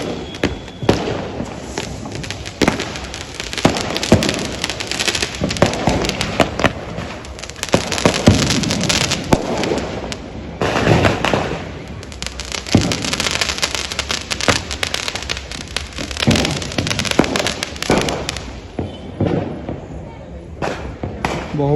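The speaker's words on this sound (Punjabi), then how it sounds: "ਸਾਰੇ ਪਿੰਡ ਵਿੱਚ ਮਾਰੋ ਮਾਰ ਬੰਬ ਚੱਲ ਰਹੇ" Diwali firecrackers and bombs pop and bang continuously across a Punjab village, near and distant blasts overlapping into a crackling barrage, with a person talking throughout.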